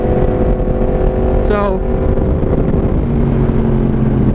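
A naked sport motorcycle engine gives a brief rising rev that swells and falls back to a rumbling idle, loud and close, with someone talking over it.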